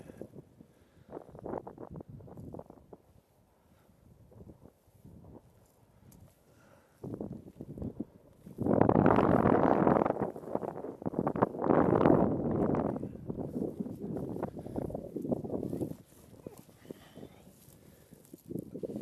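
Gusty wind blows outdoors, buffeting the microphone. It is faint and patchy at first, then swells into loud, rough roaring bursts that ebb and return.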